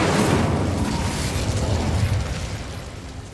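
A fiery Incendio spell blast in Hogwarts Legacy erupts as a loud, dense roaring burst with rumbling body, sustained for a few seconds and easing slightly toward the end, with no voices.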